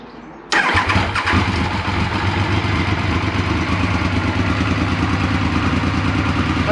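A 1994 Triumph Sprint 900 motorcycle cranks and fires after a short quiet moment, then settles into a loud, steady, close idle for several seconds.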